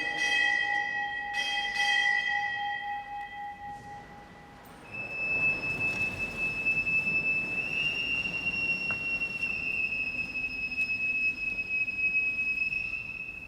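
A ship's bell is struck at a United States Navy retirement ceremony. Clear metallic tones ring out and hang in long sustained decays, one overlapping the next, against a quiet room hush with no talking.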